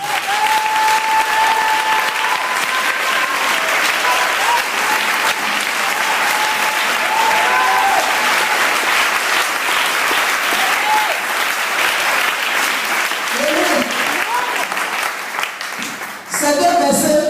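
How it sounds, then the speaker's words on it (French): Sustained applause from a church congregation at a Sunday worship service fills the room loudly and steadily, with voices mixed into the clapping throughout and a short dip near the end before it swells again. "On acclame la parole"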